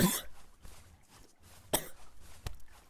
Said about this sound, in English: Sorry, I have a cough.